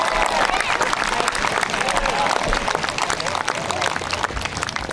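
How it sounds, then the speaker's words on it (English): A graduation crowd at Pathfinder Tech claps and cheers for a golden retriever, loud sustained applause mixed with crowd babble and shuffling noise throughout. "Let's give Scout a round of applause"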